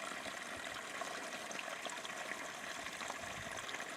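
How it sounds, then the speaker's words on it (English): Water flowing beside Carlingford Lough, a soft continuous trickling and rushing stream sound, fairly faint and steady with no voices. "Hear the water, isn't that lovely?"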